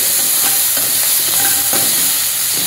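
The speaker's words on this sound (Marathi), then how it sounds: "मोहरी चांगली तडतडली की हिरव्या मिरचीचा लसूणचा ठेचा घालायचा।" Green chili and garlic paste sautés with mustard seeds in hot oil, a loud steady sizzle broken by repeated scraping stirs and small crackles, close up and without speech.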